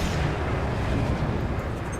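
A size 3 missile detonates in the space combat game Star Citizen, a dense, loud roaring blast rumble that stays heavy and continuous throughout.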